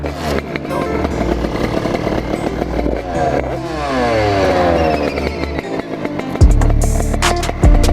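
A 50cc motorbike engine runs and warms up with a steady, buzzing, rattly drone throughout, rising to a couple of loud revs near the end.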